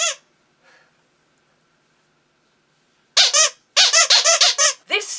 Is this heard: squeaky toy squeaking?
yes